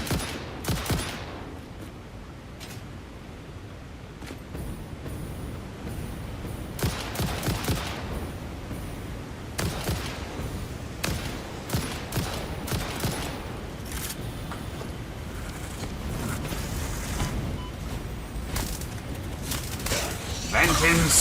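Rifle fire in the video game Satisfactory, a long run of repeated shots and dense bursts crackling loudly throughout, with a player's voice talking over parts of it.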